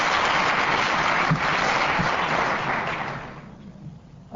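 Loud, dense audience applause for Reverend Jesse Jackson at the Harvard Law Forum in 1986, sustained and then tapering off toward the end.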